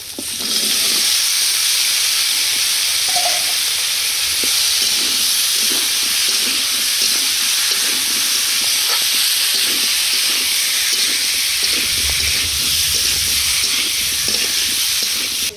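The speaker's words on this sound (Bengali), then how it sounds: "এবার কেটে রাখা কলা আলু দিয়ে 5 মিনিটের মতো কষিয়ে নেব" Cut green banana and potato pieces frying in a pan, a loud steady sizzle with repeated clinks and scrapes of stirring throughout, no voices present.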